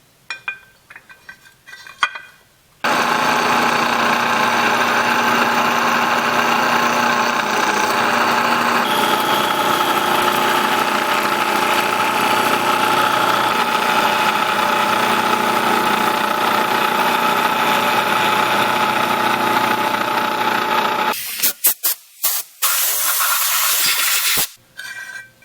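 Milling machine cutting out the lower section of a .458 SOCOM upper receiver to open the load port, a loud, steady machining roar running without a break for about eighteen seconds before stopping, with a few short clanks before and after.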